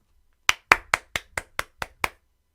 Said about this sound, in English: That was my bag hitting my thigh.